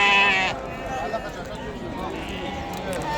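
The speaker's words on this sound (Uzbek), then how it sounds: "Bu yoqda mana qo'ylarimiz serob" Sheep bleat at the Yorqo'rg'on livestock bazaar in Namangan, Uzbekistan, with a clear nearby bleat at the start, then a busy crowd murmur with further faint animal calls.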